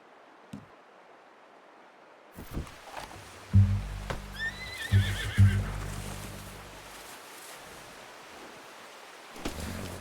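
A horse whinnies clearly in a quivering neigh over low rumbling and soft rustling outdoor ambience, followed by a few snorts, in the video game Red Dead Redemption 2.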